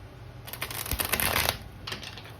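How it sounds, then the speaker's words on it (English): Tarot cards are shuffled and cut in a quick riffling burst of crisp papery flutters, close and clear, then a softer final riffle, with no talk. "one more shuffle and a cut"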